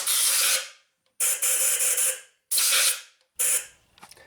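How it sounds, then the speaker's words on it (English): Compressed air blows loose dirt out of a spark plug tube on a 2003-2011 Honda Element engine: four loud, close, hissing blasts of about a second each, separated by short pauses, with a faint rattle after the last one and no talking. "I'm going to blow down in the tube in case there's anything that dropped down there."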